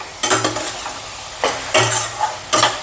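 Masala for a prawn curry fries in a pan, a constant sizzle broken by several sharp scrapes and clinks of a spoon stirring against the metal, close and loud.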